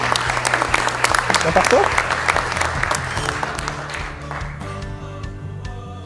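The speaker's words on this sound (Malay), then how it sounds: "Presiden Jokowi belum pidato pun semua tepuk tangan saat pertemuan ASEAN" Applause greets President Jokowi at an ASEAN leaders' meeting, a dense crowd clapping that fades midway while someone speaks over it and low background hum and music-like tones take over.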